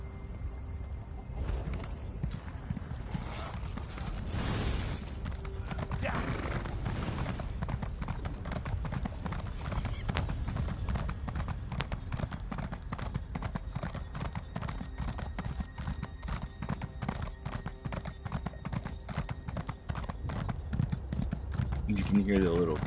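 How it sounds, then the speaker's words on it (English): Rapid clip-clop of horse hooves with faint clinking in the Elder Scrolls Online game, a steady galloping rhythm running the whole time, with occasional game effects and a voice talking over it. "You can hear the little clinkings that the horse produces."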